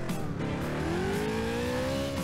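Video-game car engine from Turbo Dismount, an old-fashioned vintage-style car, revs steadily with its pitch climbing as it accelerates, loud and close throughout with some tyre and road noise beneath.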